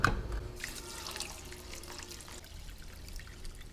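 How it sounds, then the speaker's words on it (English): Water pours into a cooking pot already holding lime juice and chicken broth, a soft steady trickle and splash that starts with a brief louder gush and then runs on quietly, with no voices. "And then lastly, I'm gonna add the water."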